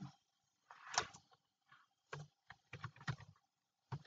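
Typing on a computer keyboard while entering code, with short clusters of close, crisp key taps separated by brief pauses, quiet and alone.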